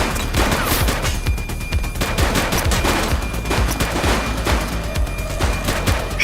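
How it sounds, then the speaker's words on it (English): Sustained bursts of automatic gunfire ring out in a police shootout in the video game The Precinct, loud and dense rapid shots overlapping continuously with no pause, with no talk present. "Shots fired!"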